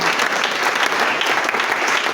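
A church congregation applauds during a Tuesday worship service, loud and sustained clapping from many hands filling the room without a break.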